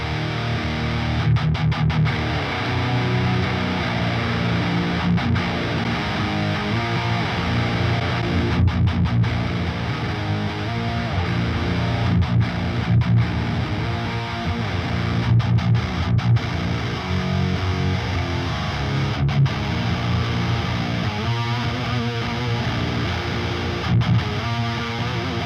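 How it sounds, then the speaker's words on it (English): Electric guitar played through an amp simulator with heavy distortion, thick sustained chords and riffs ringing continuously with brief pauses between phrases. "Then we have the distortion."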